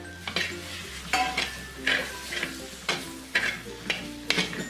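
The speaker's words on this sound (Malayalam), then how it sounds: "ഇനി ഈ അരിഞ്ഞു വെച്ചിരിക്കുന്ന ടൊമാറ്റോ ഇതിലേക്കിട്ട് ഇളക്കി കൊടുക്കാം." Chopped tomato stirred into a frying spice masala for a Kerala crab roast: a spoon scrapes the pan in regular strokes about once a second over a steady low sizzle, close and clear.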